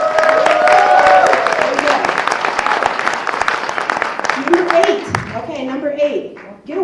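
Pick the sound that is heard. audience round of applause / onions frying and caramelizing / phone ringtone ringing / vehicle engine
audience round of applause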